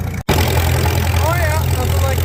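A Farmall H tractor engine runs at a steady idle-like drone, low and continuous, with someone talking over it throughout and a brief dropout near the start.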